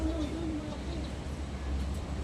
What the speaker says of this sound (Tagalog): Kalapate.